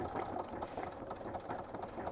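A sewing machine runs a triple stitch through Kraft-tex paper fabric, a quiet, steady mechanical chatter with an even rapid rhythm throughout and no voices over it.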